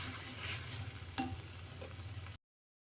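Amla candy mixture stirred in a pan, a soft, steady scraping and gentle sizzling that continues evenly and quietly for a few seconds before cutting off, with no talking.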